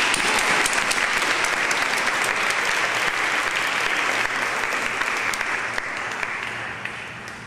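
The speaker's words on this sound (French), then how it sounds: "On peut les applaudir." An audience applauds a children's choir after a French song, dense sustained clapping that fills the room and slowly fades toward the end, with no voices over it.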